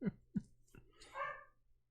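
A dog in a home gives two sharp barks followed by a softer bark and a whiny, drawn-out yelp, close and faint, with no talk.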